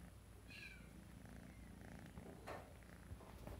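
A classic tabby tuxedo male cat purrs softly and steadily up close, a low continuous rumble in a quiet room, with a brief faint chirp near the start.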